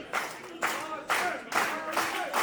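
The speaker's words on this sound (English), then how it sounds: "The crowd solidly behind Mosh Pit, as always, here in the WFA." Crowd at a WFA pro wrestling event clapping and cheering in loud repeated bursts, roughly every half second, with an announcer talking over the noise.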